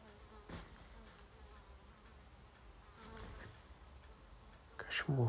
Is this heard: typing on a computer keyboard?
no